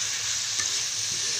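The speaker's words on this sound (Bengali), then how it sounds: "সব কিছু খুব ভালোভাবে একটু মিশিয়ে নেব। মাংসটা সেদ্ধ হওয়া পর্যন্ত আমি এটাকে রান্না করব।" Chicken samosa filling fries in a pan with a dense, even sizzle up close, a single soft stir stroke briefly audible in the steady hiss.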